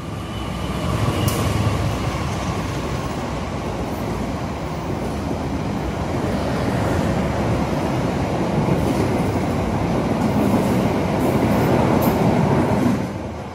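Steady rumble and rolling clatter of an economy-class train around Purwosari station in Solo, a continuous close, loud drone of wheels and carriage noise with faint clicks on top, no voices.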